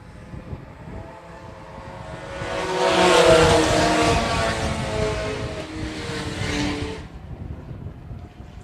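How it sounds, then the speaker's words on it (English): IMCA Sport Compact race cars on a dirt track at Phillips County Raceway, engines swelling loudly as the pack passes close by and then fading away, with an announcer's voice faintly underneath. "Good battle here for your IMCA Sport Compacts."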